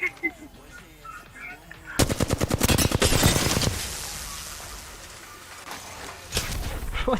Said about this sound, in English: Just hear a gunshot.